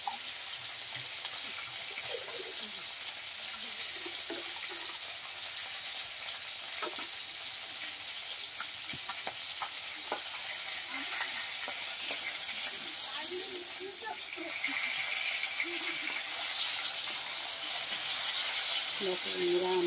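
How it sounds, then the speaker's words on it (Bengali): Tilapia fish frying in hot oil to redden, giving a steady, loud crackling sizzle with fine popping that continues unbroken for about twenty seconds, with no voices. "আমি কিন্তু তেলাপিয়া মাছগুলোকে একটু লাল করে ভেজে নিচ্ছি"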